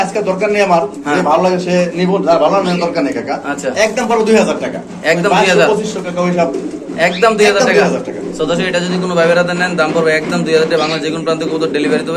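Caged pigeons coo at a seller's stall offering birds with eggs and chicks, their throaty calls continuing through loud, almost unbroken conversation close by.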